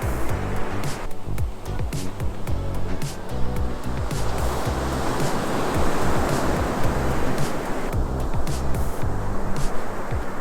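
Cold Pacific surf breaks and washes continuously on an empty Northern California beach, a loud steady roar with swelling crashes and light wind.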